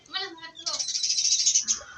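Small birds give high, thin chirps in a home courtyard on a breezy, sunny day. Someone speaks briefly, and a bright sustained twitter rises over his voice.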